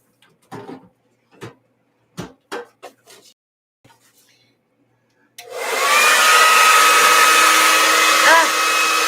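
A hair dryer switches on with a sudden roar and blows steadily and loudly on thick acrylic pour paint, with a whining tone, after several sharp knocks and handling sounds in a quiet room.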